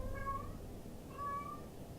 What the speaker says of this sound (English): Got one of my cats meowing in the background